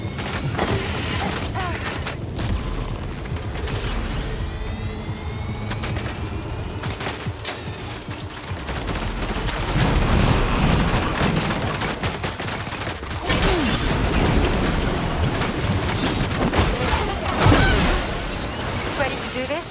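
Gunfire in the video game Death Stranding 2 on PS5, dense rapid bursts of shots and mechanical clatter running throughout, with swells of heavier firing and voices speaking over the action.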